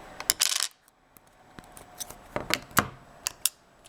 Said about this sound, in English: Go ahead and pop out the SIM card in this version here.